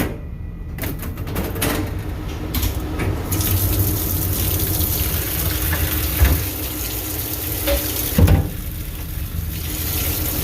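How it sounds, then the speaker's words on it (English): Parts of a Lincoln Impinger oven being rinsed under a running tap: a loud, steady gush of water with splashing and occasional clatters of metal pieces, close up and without talking. "Give them all a rinse."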